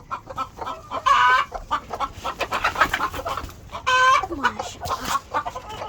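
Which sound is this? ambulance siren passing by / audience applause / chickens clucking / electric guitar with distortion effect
chickens clucking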